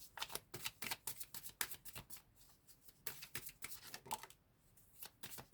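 Tarot cards are shuffled in a run of quick, crisp riffling bursts with brief pauses between them, close up and fairly soft, with no talking.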